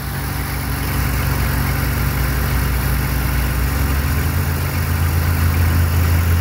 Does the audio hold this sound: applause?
no